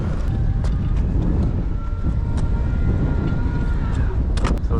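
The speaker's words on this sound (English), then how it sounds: "Man, she's windy today." Strong wind on a rooftop buffets the microphone in a steady low rumble, with occasional sharp clicks and knocks nearby.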